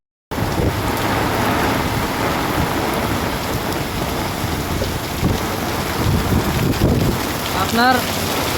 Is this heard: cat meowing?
no